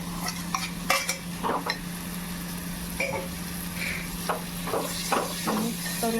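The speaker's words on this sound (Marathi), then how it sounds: "आपण कोलंबी घालूया त्याच्यामध्ये" Prawns going into a simmering gravy in a Marathi home kitchen, with a spoon clinking and scraping against the pot in scattered taps and a faint steady bubbling hum underneath, close and fairly quiet.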